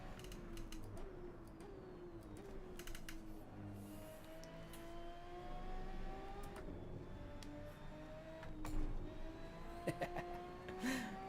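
Ferrari 599XX engine lapping Monza in Assetto Corsa, a steady droning note climbing and dropping through repeated gear shifts, with rising pitch sweeps and sharp clicks from shifts over a continuous mechanical whine, moderately loud with no talking.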